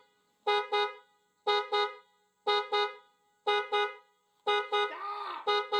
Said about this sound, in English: You gotta turn your alarm off first.